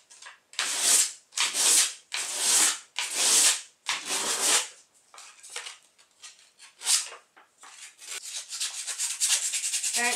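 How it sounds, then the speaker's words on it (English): A patch on a plastic bottle is sanded by hand: several loud, hissing rubbing strokes up close, then quieter, quicker scrubbing that turns into a continuous rasp. "Don't forget to sand the little patch."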